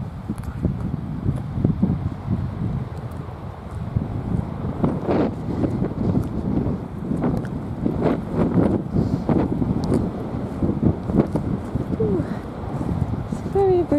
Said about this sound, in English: It's very breezy. I can barely hear you.